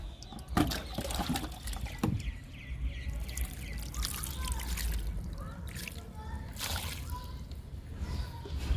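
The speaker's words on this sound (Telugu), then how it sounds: "కరివేపాకు మొక్కకు కూడా వాటర్ ఇస్తున్నా" Water splashes and trickles onto the soil of a curry leaf plant in an uneven stream, with a few brief knocks and background noise throughout.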